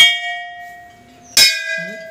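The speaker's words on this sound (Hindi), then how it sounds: "घंटी बजा बाबा" A bell rung by hand in a Hindi-speaking setting, a sustained ringing tone fading slowly before a second sharp strike at mid-clip that rings on, fairly loud and close.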